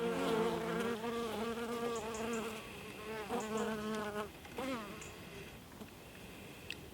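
Honeybees buzz steadily at a hive entrance as foragers return with pollen during a UK winter colony check. A continuous close hum runs throughout beneath a person talking.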